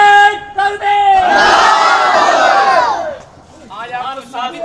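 A large crowd at a religious conference in a mosque roars a slogan in unison in answer to the takbir call, one loud swelling collective shout lasting about two seconds, set between lines of amplified chanted speech.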